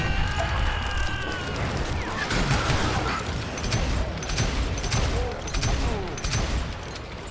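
Revolver gunfire from the video game Call of Juarez: Gunslinger, a dense stretch of repeated shots and crackling reports over a busy, noisy game soundscape.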